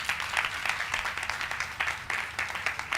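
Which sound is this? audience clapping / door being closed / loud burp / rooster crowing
audience clapping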